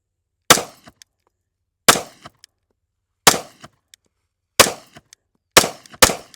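Five loud, sharp 9mm pistol shots crack out alone outdoors. Each is a sudden bang with a short decaying tail, fired at a steady pace of roughly one every 1.3 seconds.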